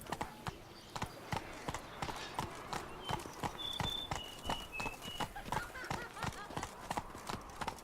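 Horse hooves gallop in The Witcher 3: Wild Hunt, a rapid, steady clip-clop rhythm running throughout, with brief short calls and sounds scattered over the hoofbeats.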